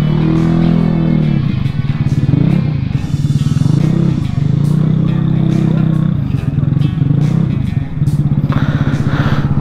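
A motorcycle engine runs loud and close with uneven revving surges while being parked, its rumble continuous and dominant, with occasional voices underneath.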